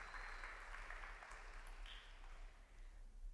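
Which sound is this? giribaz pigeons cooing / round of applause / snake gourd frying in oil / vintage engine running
round of applause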